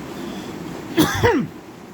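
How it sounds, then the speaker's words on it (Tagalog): A single short cough or throat-clearing burst, close and fairly loud, over a quiet background hiss. "Grabe tong ubo ko."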